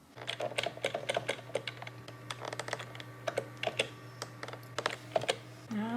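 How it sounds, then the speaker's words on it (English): Rapid typing on a computer keyboard, with dense, uneven bursts of key clicks close by over a steady electrical hum, no talk. "when I press down the keyboard, it's not reacting straight away"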